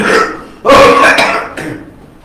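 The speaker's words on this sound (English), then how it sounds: "I got some throat irritation, so I will cough a little bit" A man with throat irritation gives a couple of bursts of coughing mid-lecture, a loud cough followed by a shorter, weaker one, close and clear with no talk over it.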